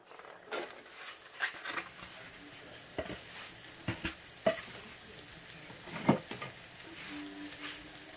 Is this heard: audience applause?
no